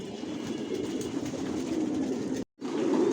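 Racing pigeons of an original Johnson line coo in their loft, a steady low murmuring chorus running close and continuous, with one brief gap of silence near the end.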